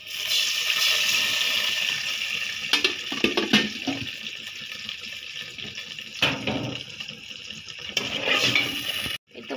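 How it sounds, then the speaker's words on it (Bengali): Water poured into a hot cooking pan of frying onions, giving a continuous rushing, bubbling hiss that swells and wavers for several seconds before cutting off abruptly near the end, with no voices. "এখানে একটু পানি দিয়ে দিই।"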